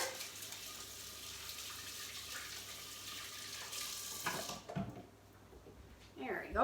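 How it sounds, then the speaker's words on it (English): Tap water runs steadily into a kitchen sink as hands are washed under it, a fairly quiet rushing hiss. It drops away near the end and is followed by brief handling noises. "I'm just going to wash my hands up here."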